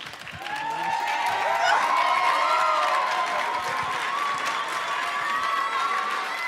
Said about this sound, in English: Let's give a big round of applause for Morgan Park.